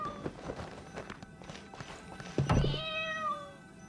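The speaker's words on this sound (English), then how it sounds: "I can hear the cat's cries a bit clearer now" A cat in a video game cries from behind a picture frame, a plaintive meow rising near the end after a dull thunk, with scattered faint clacks and soft knocks before it.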